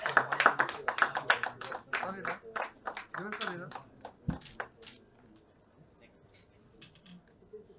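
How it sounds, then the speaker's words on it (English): Audience claps politely for a woman being introduced at a hazard-resilience infrastructure event, a sparse scatter of hand claps that trails off and fades into quiet room noise. "Please kindly clap for her."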